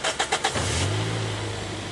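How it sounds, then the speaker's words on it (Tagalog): A Toyota Vios engine cranks with four quick starter whirs, then catches and settles into a low, steady idle close by. "Start ko na itong makina."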